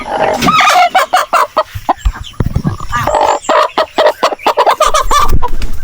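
Hen on a small farm clucking loudly and close by, a rapid run of choppy squawking clucks with short pauses between bursts, alone with no talk.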